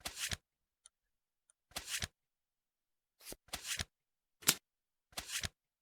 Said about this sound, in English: and then shuffle